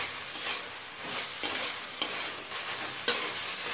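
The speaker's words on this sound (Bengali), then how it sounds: "এখন গ্যাসের ফ্লেমটা মিডিয়ামে রেখে চিকেন থেকে তেল ছেড়ে আসা পর্যন্ত কষিয়ে নেব।" Chicken is stirred and sautéed in a pan over a medium gas flame, a continuous close sizzle broken by a few sharp spoon scrapes and clacks at irregular moments, with no voices.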